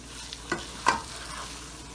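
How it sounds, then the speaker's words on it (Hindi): Minced meat keema for qeema kachnaar browning over full flame, a low steady sizzle with a couple of sharp scraping clinks from a spoon, fairly faint and close, no talking. "अब हम तेज करेंगे, फुल आंच पे इसको भूनेंगे।"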